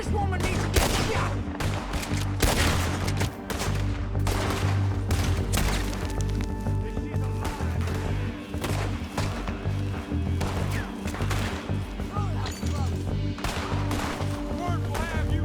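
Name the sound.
gunshots in the video game Red Dead Redemption 2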